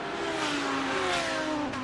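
A Honda NSX GT3 race car in a sim-racing 24-hour endurance event at Daytona, engine wailing at high revs in a close chase, a loud sustained drone with gliding pitch and no talk.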